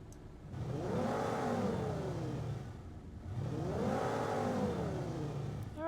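Blended car engine revving built from an Audi R8 and an Aston Martin in the Krotos Igniter engine tool, rising and falling in two long sweeping rev cycles, loud and sustained with no talk.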